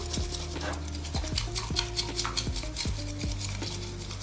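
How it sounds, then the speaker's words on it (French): A bamboo whisk beating matcha with water in quick V-shaped strokes, a soft rhythmic scraping swish repeating steadily against the bowl, close and unaccompanied by speech. "je vais ajouter l'eau, comme les deux autres, et je vais frotter avec des grands V"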